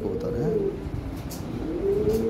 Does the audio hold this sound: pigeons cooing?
yes